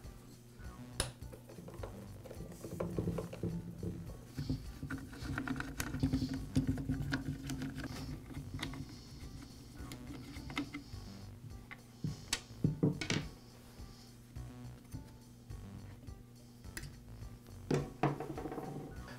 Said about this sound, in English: And now I can remove the side cover.